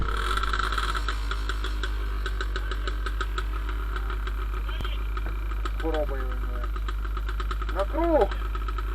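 A Pannonia motorcycle engine is started and runs at a steady idle throughout, a low continuous rumble with some knocking, while people talk over it.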